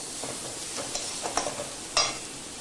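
Egg tadka masala is stir-fried in a pan, giving a steady sizzle broken by scraping spatula strokes and a few louder knocks against the metal.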